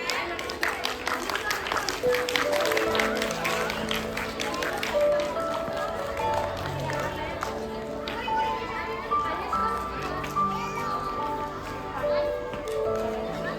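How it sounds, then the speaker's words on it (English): A crowd of children and adults claps at a school Diwali and sports week prize ceremony. The clapping is busy and ongoing, with kids talking and a background tone under it. "Clap loudly for them."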